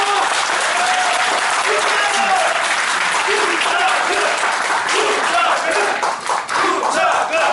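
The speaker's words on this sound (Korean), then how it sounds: "동의하시면 박수 한번 주십시오." Sustained applause from the audience at a Korean election candidate's press conference in a city hall meeting room, dense steady clapping lasting throughout with faint voices mixed in.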